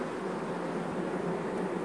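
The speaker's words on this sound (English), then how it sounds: "I'm covered in bees." Honey bees at an opened beehive make a steady, close, droning buzz that holds even for a couple of seconds, with no voices over it.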